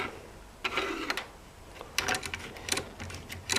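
Singer Model 20 toy sewing machine making chain stitches: quiet, quick mechanical ticking and clattering in short bursts, with no talking.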